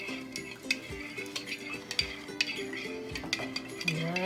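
A large batch of glue stirred in a bowl for homemade slime. Close, continuous stirring with quick scrapes and light utensil clinks against the bowl.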